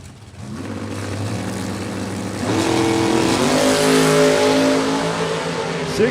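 A Ford Mustang door car at a drag strip launches and accelerates hard, its loud engine roaring steadily and climbing in pitch as it pulls away, close and alone with no talk.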